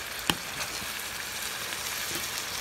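Ground meat mixed with chopped mushrooms sizzles steadily in a pan as it is stirred, with one sharp utensil clack near the start over a continuous close frying hiss.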